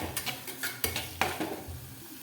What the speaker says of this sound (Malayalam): ചെറുതായി അരിഞ്ഞ ഇഞ്ചി ഇതിലേക്ക് നമുക്ക് ചേർത്ത് നന്നായി മിക്സ് ചെയ്ത് കൊടുക്കാം ഇഞ്ചി നമുക്ക് നന്നായി വഴറ്റി കൊടുക്കാം